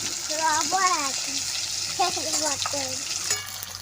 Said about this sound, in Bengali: হালকা করে আরেকটু ভেজে নেব।